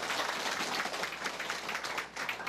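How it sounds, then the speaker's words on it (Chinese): Audience applause at the close of a professor's talk at a forum, a dense steady wash of many hands clapping, moderately loud and continuous throughout. "大家鼓掌"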